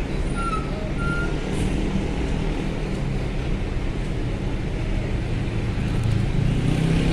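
Trucks idle and rumble in a crowded parking lot in front of a ship at Bakauheni ferry port, a steady dense engine drone with faint distant beeps and brake hisses mixed in.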